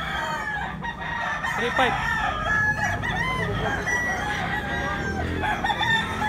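A young stag rooster crows several times in quick succession, its harsh warbling calls fairly close, with people talking nearby amid a busy outdoor gamefowl sale.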